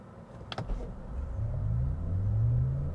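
A 2023 Cadillac Lyriq all-electric luxury SUV launching hard from a standstill, a quick clatter followed by a steadily rising low drive whine and road rumble growing louder through the run.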